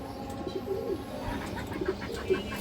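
Pigeons, including a silver-coloured bird, coo softly nearby in a low, repeated burbling, with faint background rustle and no talk.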